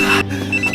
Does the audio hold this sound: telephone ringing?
yes